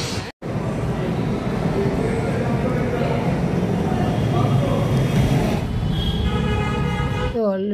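A metro train ride: a steady, loud rumble and roar of the moving carriage throughout, with a brief dropout near the start and a rising whine toward the end.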